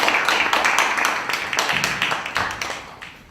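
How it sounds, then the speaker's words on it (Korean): An audience applauds a keynote speaker at a startup lecture on VR, with moderate, fairly distant clapping that rolls on steadily and slowly fades. "큰 박수 부탁드릴게요"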